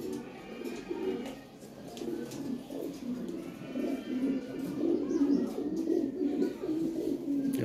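Lahori Shirazi pigeons cooing steadily in low, throaty rolling calls during breeding, close by, with a continuous murmur of several birds throughout.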